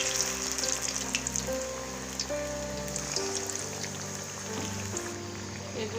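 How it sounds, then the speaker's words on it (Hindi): Potato, fenugreek leaf and onion tikki frying in a pan, giving a steady, close, rain-like sizzle of hot oil that runs the whole time with no talk over it. "ये दूसरी फ्राई हो गई है"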